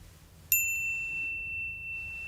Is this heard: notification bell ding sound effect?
yes